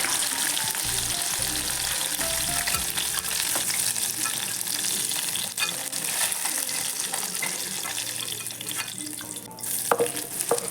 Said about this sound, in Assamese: মাছখিনি মই ইমান মচমচীয়াকৈ ফ্ৰাই নকৰোঁ, অলপ পাতলকৈ ফ্ৰাই কৰিম